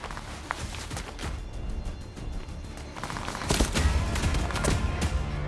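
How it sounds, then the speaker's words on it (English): Sound-designed bullet impacts and gunfire for an action short film, a dense run of sharp cracks and thuds that grows louder and busier in the second half, with no talk. "we wanted to simulate real bullet impacts"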